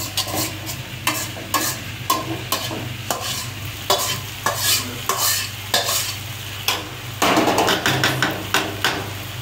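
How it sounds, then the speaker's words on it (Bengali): Eggs seasoned with salt and chowmein masala fry in a pan while a utensil stirs and scrapes them in repeated rhythmic strokes, close and loud over a steady sizzle. "এখন যত ভাজা ভাজাইব ততই ভালো লাগবে"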